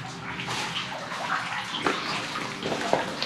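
Water streaming down a small mineral spring cascade at Cuexcomate in Puebla, Mexico, a steady close splashing rush with brief gurgles and no talk over it.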